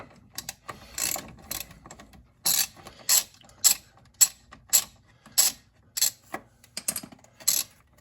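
Hand ratchet clicking in short, rapid bursts while removing the bolts and nut from a C6 Corvette shock absorber, about a dozen sharp, close clicks with brief pauses between them.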